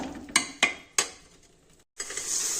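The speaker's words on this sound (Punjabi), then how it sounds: "ਤੇ ਇਹਨਾਂ ਨੂੰ ਵੀ ਚੰਗੀ ਤਰ੍ਹਾਂ ਭੁੰਨ ਲੈਣਾ ਜਦੋਂ ਤੱਕ ਕਿ ਆਪਣਾ ਮਸਾਲਾ ਜਿਹੜਾ ਤੇਲ ਨਾ ਛੱਡ ਦੇ" Masala with tomato roasting in oil in a pan for an aloo baingan dish: a few sharp spoon scrapes and clinks against the pan, a brief gap, then a steady, close sizzle of frying.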